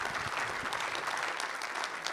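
An audience at a short film festival meet-the-directors event applauds the film directors with steady, dense clapping from a full room that holds throughout.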